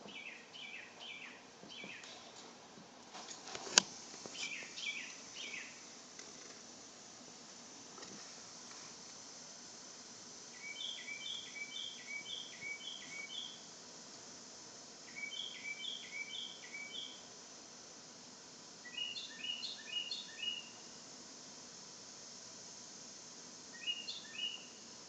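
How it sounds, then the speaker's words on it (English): Birds calling outside in pitch darkness at night in Florida, bursts of quick repeated chirps in short rhythmic phrases with pauses between, moderately distant over a faint hum of insects, one sharp knock near the start. "there's birds tweeting outside"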